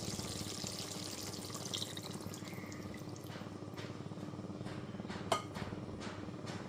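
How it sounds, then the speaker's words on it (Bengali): One cup of hot water poured into simmering chicken curry in a pan, a steady close wet splashing and trickling with a single sharp clink near the end. "এরপর এতে দিয়ে দিচ্ছি 1 কাপ পরিমাণ গরম জল।"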